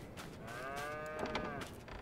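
Cows in the Farm Sim 22 video game give a drawn-out, moderately close moo that swells in the middle and fades, set against a low background hum with no speech.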